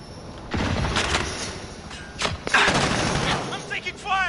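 Gunfire in a Call of Duty team deathmatch match, several bursts of shots and impacts scattered through the clip, with a rising whistling effect near the end and a voice speaking over the action.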